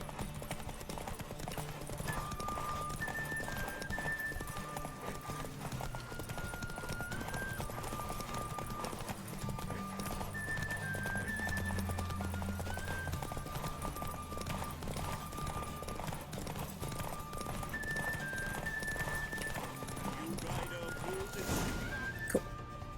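Hoofbeats of Roach, a horse in The Witcher 3, clip-clop steadily at a gallop throughout, under game music and ambient sound, with an occasional whinny and some speech.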